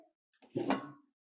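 A pressure cooker is set down on a stove with a single short metallic clunk and scrape, close and fairly quiet, in an otherwise silent moment.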